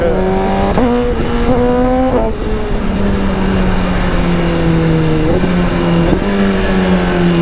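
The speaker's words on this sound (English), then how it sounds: "Now that's how you ride the Suzuki." Suzuki GSX-R1000R motorcycle fitted with a full Akrapovic titanium exhaust, loud and close, holding a sustained engine howl that rises and drops in pitch through several throttle and gear changes.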